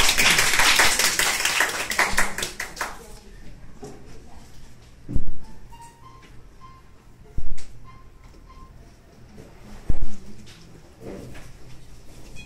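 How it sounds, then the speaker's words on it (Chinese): An audience applauds after a children's hymn performance at a church gospel centre: a loud burst of clapping for the first few seconds, then a quieter room with a few isolated sharp claps. "我们再给他们拍拍手。"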